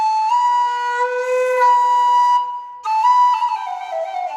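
A Chieftain V4 low whistle played softly, holding long, steady, breathy notes close up, with a brief gap before it shifts to a new pitch and wavers downward.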